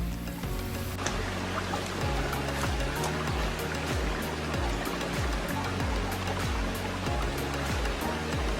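A forest stream on the Bukhansan Dulle-gil trail flows steadily with an unbroken rushing wash, partly masked by soft background music.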